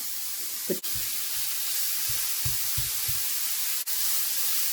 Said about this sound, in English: I've got this skillet really hot. See, that sausage is cooking up real nicely.